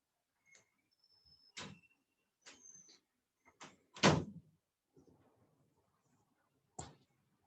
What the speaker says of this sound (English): Can you close the door?